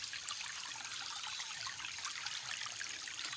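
Clear water trickles and babbles from its spring source in a natural outdoor setting, a continuous soft, bright flow that stays close and steady with no other sounds.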